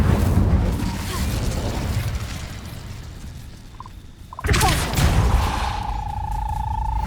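A fire spell cast in the video game Hogwarts Legacy erupts with a sudden loud burst partway through, following a steady rumbling background and trailing into a sustained tone.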